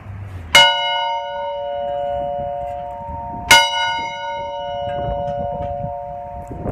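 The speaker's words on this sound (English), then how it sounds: "One of the coolest things about this is that the bell actually works." An old chapel bell strikes twice, about three seconds apart, each loud clang ringing on with a long sustained hum over a low rumbling background.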